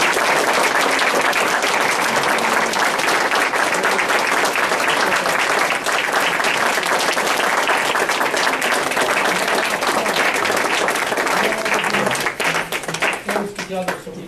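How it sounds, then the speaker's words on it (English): A council meeting audience gives a long round of applause, loud, dense clapping from many hands that continues evenly before breaking up into scattered claps and voices at the end. "applause?"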